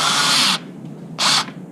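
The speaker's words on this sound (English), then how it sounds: "I always like to put it on a 9 on your drill." A power drill set to 9 whirs in two short bursts while driving bolts during an oil change, a longer run first and then a brief second one, close and loud.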